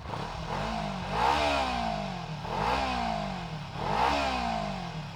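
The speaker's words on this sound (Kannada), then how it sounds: "ಗಾಡಿನೊಂದ್ಸಲಿ ಸ್ಟಾರ್ಟ್ ಮಾಡಿ ಎಕ್ಸಾಸ್ಟ್ ನೋಟ್ ಕೇಳದ ಬನ್ನಿ" A Kawasaki Ninja 300 motorcycle revs three times in a row, each rise and fall of the exhaust note smooth and close by over a steady idle.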